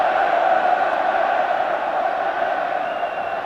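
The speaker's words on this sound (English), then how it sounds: "listen to the cheering for Wales especially, but the big Scots contingent letting themselves be heard" A large rugby crowd in Cardiff roars and cheers for Wales, with a sizeable Scottish contingent, during a Five Nations match; a continuous broad distant wall of crowd noise with no distinct voices.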